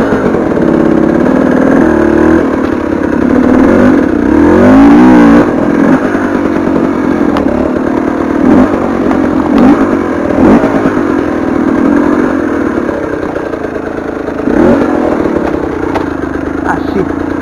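A KTM 300 TPI two-stroke dirt bike rides in third gear, its engine buzzing loudly and steadily with brief rises in revs and some clatter, heard close up while a voice talks over it.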